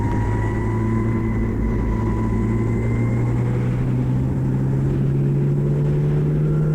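Engine of a historic Formula Ford race car on track, a steady droning tone rising slowly in pitch as the car accelerates through the gears, heard continuously from onboard with loud wind and rumble.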